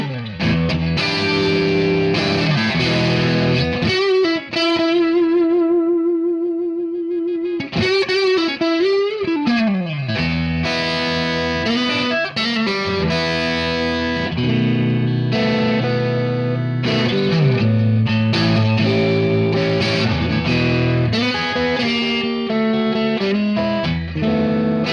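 A Fujigen JOS CL electric guitar played through its neck pickup with heavy distortion, sustained chords and single notes ringing loud and continuous with a brief held note before the strumming resumes.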